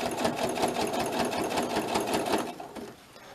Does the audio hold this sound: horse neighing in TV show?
no